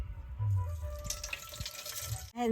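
Rice is washed by hand under running water in a kitchen, with a close, steady splash and gurgle of tap water over the grains for a couple of seconds.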